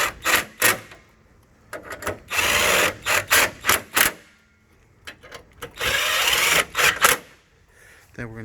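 A power tool drives and tightens bolts on a 2012 Chevrolet Silverado driver-side headlight, in repeated short bursts of whirring with brief pauses and a few clicks, close and fairly loud.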